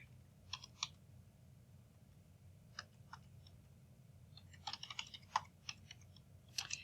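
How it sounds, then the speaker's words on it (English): Close computer keyboard typing comes in scattered bursts of light clicking keystrokes, with short pauses between clusters, over a faint low room hum while a username and password are entered. "You're going to type in your username and password."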